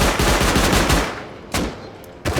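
Sentry turret gunfire during a Rust raid, a fast rattling automatic burst that fades into echo, followed by two more sharp, loud bursts close by.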